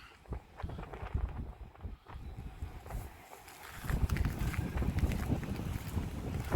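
Gusty wind buffets the microphone at Lights Beach at sunrise, rumbling and swelling in uneven waves with steady noise underneath.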